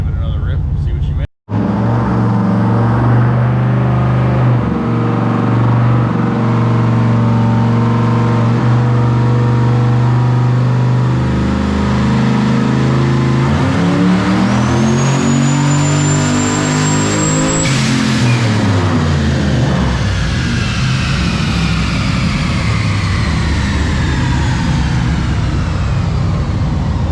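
A twin turbo LS-powered Ford Falcon roars through a dyno pull, its engine climbing steadily in pitch for many seconds before the revs fall away. The sound is loud, close and continuous.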